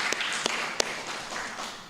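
A church congregation at a Sunday service applauds briefly, with scattered, moderately loud hand claps over a soft murmur of room noise.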